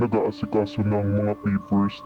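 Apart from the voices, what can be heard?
No everyday noise stands out behind the speech.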